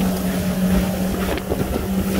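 A Bennington 20SLV pontoon boat running across choppy lake water, with a steady engine drone, water rushing against the hull and wind buffeting the microphone, loud and close.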